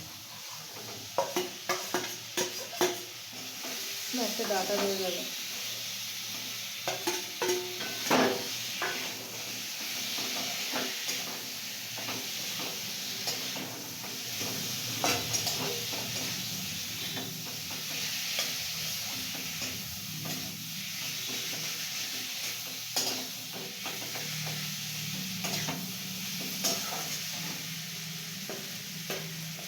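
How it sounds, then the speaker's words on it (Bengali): Fried vegetables stirred in a pan for a fish-head chorchori, with a soft steady sizzle under repeated scraping and clattering of a spatula. Stirring is busiest in the first few seconds, and a voice speaks briefly. "এবার ভাজা তরকারিগুলো দিয়ে দেবো"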